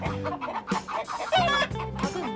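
Native tawny chickens on a small farm cluck close by in quick, overlapping bursts, one brief higher squawk standing out among them.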